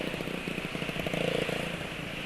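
A motorcycle engine idles with an uneven, sputtering chug, a rough rhythmic putter that rises briefly midway, heard up close.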